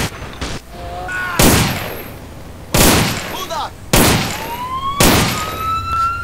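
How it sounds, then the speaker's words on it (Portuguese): Police open fire from inside their vehicles in a modded GTA game, with four loud, sharp gunshot blasts spaced about a second apart and faint siren wails between them. "os policiais agora vão vir atirando de dentro dos veículos com esse clown mod"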